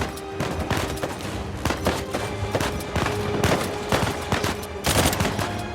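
Rapid bursts of gunfire from the video game Uncharted 4, dense overlapping shots and volleys crackling continuously throughout with no talk.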